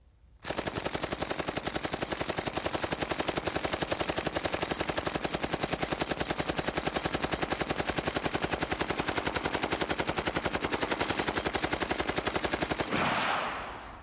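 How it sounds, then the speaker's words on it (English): An M60 machine gun fires one long, continuous burst of rapid, evenly spaced shots for about twelve seconds, loud and close, then stops abruptly with a short echo. "we'll crank off a little bit of the M60 here"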